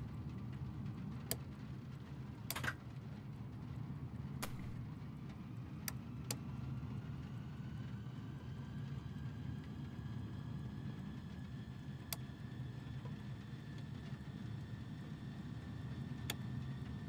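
Douglas DC-3 engines spinning up in Microsoft Flight Simulator: a steady low droning rumble with a faint rising whine, sharp clicks scattered throughout, and no talk.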